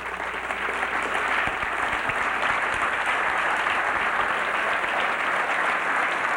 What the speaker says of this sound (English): because they really deserve your applause